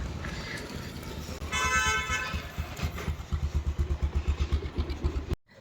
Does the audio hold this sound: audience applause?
no